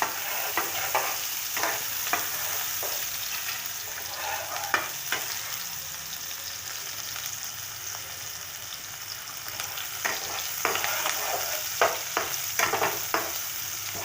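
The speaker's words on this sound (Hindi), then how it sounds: "पहले इसको हम प्याज को यहाँ पे फ्राई कर लेंगे अच्छी तरह से।" Onions frying in a pan for an Assamese fish head and kashu dish, a continuous moderate sizzle with occasional stirring clinks and scrapes, close by and with no talking.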